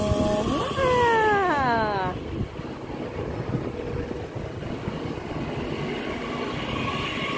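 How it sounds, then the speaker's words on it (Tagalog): A train pulls into a station in Germany, first sounding a rising whistle-like tone, then rumbling and hissing steadily as it comes in, with wind buffeting the microphone throughout. "ayan na yung train namin"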